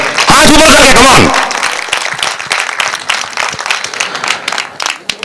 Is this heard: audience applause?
yes